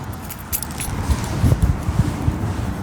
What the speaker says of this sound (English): just got the keys for this house